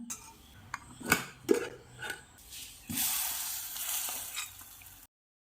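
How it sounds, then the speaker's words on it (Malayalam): Spices being stirred into radish sambar in a pan: a spoon scrapes and clinks against the pan over a soft sizzle, in a few close, distinct strokes before the sound cuts off. "ഇത് നന്നായിട്ടൊന്ന് ഇളക്കി യോജിപ്പിക്കാം"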